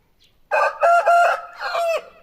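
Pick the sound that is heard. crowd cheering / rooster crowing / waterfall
rooster crowing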